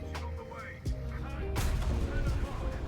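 Cannon shots from a Vickers tank in a tank game, with two sharp heavy blasts about a second apart followed by rumbling, and a voice talking over it.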